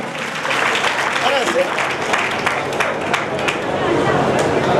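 An audience at a community award ceremony in Bhilwara claps to welcome donors, a dense, continuous wash of applause with crowd murmur mixed in, loud and sustained throughout.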